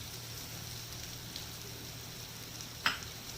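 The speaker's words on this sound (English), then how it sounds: "And again I will saute for more 20 seconds max." White sauce with salt, black pepper and chili flakes sautéing in a pan: a faint, steady hiss of gentle frying, broken near the end by one sharp, bright tap of a utensil.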